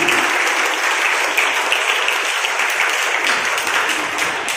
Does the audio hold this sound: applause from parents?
yes